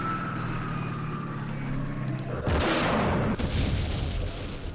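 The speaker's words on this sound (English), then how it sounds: "Let's try with our recoilless rifles." Recoilless rifles fire in the war game Campaign Series Middle East, a loud boom cutting through a steady rumble, followed by a sustained blast that fades after about a second.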